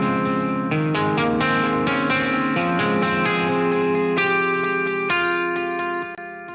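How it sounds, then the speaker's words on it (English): Heavily wet electric guitar with dotted quarter note delay and a low-pass filter at 3000, playing a sustained melodic line whose repeats smear into a spacious, ambient wash, steady and loud throughout before trailing off at the end. "This is a very, wet sounding guitar, but I think it does a really good job of giving a sense of space."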